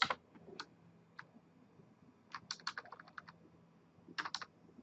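Quiet keystrokes on a computer keyboard come in scattered clicks and short quick bursts as networking commands are entered, close by and with no talking over them.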